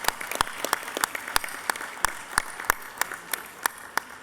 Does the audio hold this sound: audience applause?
yes